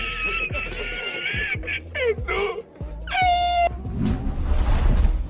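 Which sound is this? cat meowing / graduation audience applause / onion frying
cat meowing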